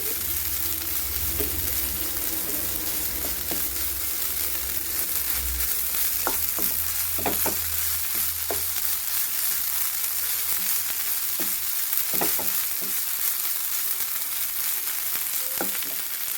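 Cabbage thoran stir-fries in a pan with onion, green chilli and chilli powder, making a steady, even sizzle with intermittent scrapes and taps of a spatula stirring.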